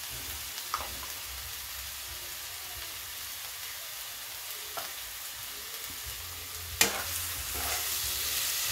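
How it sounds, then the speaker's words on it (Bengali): Kashmiri and regular red chili powder spices frying and being stirred with green jackfruit in a pan, a steady soft sizzle broken by a few scraping stirs, a louder clank near the end. "মশলাটা আমি ভালো করে কষিয়ে নিচ্ছি"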